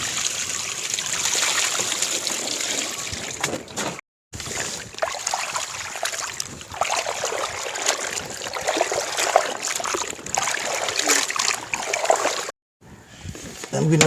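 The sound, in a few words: washing tapioca in water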